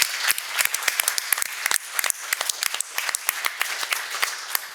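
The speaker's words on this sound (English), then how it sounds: "So a big round of applause to all of you in the Bio Foundation." Audience applause at a philanthropy panel event, sparse and distinct hand claps from a modest crowd, crisp and irregular, continuing steadily without talk.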